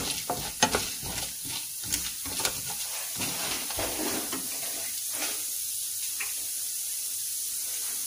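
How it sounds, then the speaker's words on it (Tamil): Mustard seeds splutter and urad and chana dal fry in hot oil, a continuous sizzling hiss punctuated early on by several sharp pops and stirring clatters that settle into steady frying. "இப்போ கடுகு நல்லா பொரிய ஆரம்பிச்சிருச்சு"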